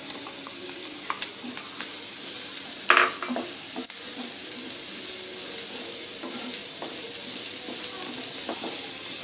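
Carrots and beans sautéing with onions in a pan for samosa filling, a continuous close sizzle broken by a few sharp spatula clinks and scrapes, the loudest around the third second, with no voice.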